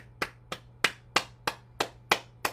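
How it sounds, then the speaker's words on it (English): Eight single hand claps land close and crisp at an even, unhurried pace during a bounce exercise session, each a sharp isolated slap over a faint low hum. "And then we'll clap our hands."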